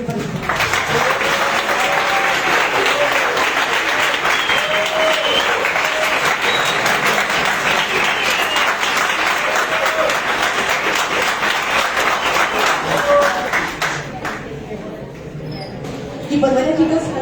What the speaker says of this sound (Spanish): Realmente les pido otro aplauso